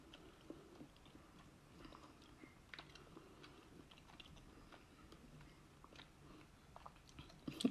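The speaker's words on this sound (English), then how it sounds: "And because it's big, I need to chew it a lot" Someone chews a whole scorpion slowly and at length, making soft, close crunches and wet bites in an uneven rhythm, faint and without talk.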